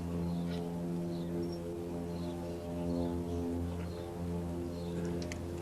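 Steady low droning hum of aircraft from a nearby air base at Wigram, Christchurch, heard constantly beside the Hoon Hay Bowling Club green, a continuous moderate rumble with faint higher whines, no speech over it.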